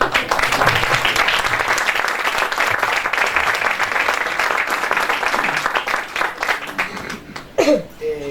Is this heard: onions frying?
no